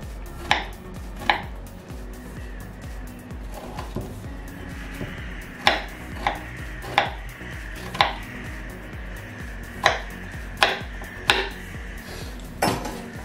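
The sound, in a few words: knife chopping pear into dice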